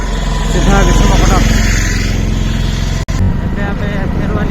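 Hero Splendor Plus motorcycle riding on a road, its engine a steady, loud drone mixed with wind rush and a brief dropout midway, with voices faintly present under the noise.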